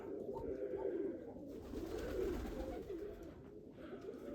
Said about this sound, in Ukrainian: Зігнав голубів.